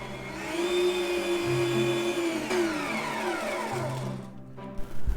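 An electric mixer whirs steadily through fluffy cake batter in a bowl, a continuous close motor hum with a slight pitch drop near the end before it cuts off.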